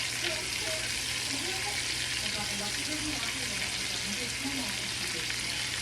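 A pot of tomatillos bubbles and hisses steadily at a boil with a dense, even crackle, continuous throughout with no talking.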